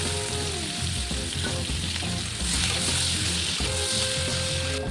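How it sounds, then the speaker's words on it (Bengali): Sliced onions fry steadily in melted butter with cloves, cinnamon and cardamom, giving a loud, continuous sizzle with light stirring clatter throughout. "বাটারটা মেল্ট হয়ে গেলে এখানে আমি লবঙ্গ দারচিনি এলাচ তারপর স্লাইস করে রাখা পেঁয়াজ দিয়ে একটু ভাজা ভাজা করে নিলাম"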